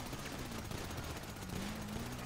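Rapid bursts of gunfire from the GTA Online video game, dense and continuous, with shots layered over a steady background of game noise and no clear talk.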